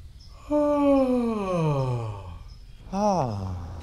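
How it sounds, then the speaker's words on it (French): Big, ample human yawn done as a vocal exercise: a long voiced yawn sliding downward in pitch over about two seconds, then a second shorter yawn falling the same way, close and clear. "Tu peux terminer tes expérimentations avec un bâillement très ample et généreux."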